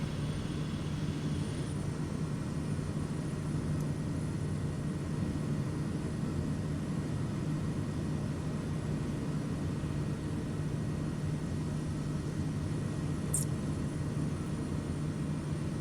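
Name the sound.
propeller aircraft engine in flight simulator video game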